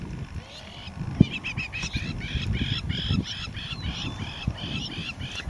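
Agitated nesting birds near a jackal give repeated harsh, honking calls in a quick, irregular series, loud and close over a constant outdoor background.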